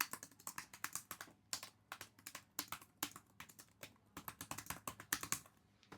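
A boy types fast on a computer keyboard, a rapid, continuous patter of crisp key clicks with short bursts and brief pauses, close-up and clear, with no talking.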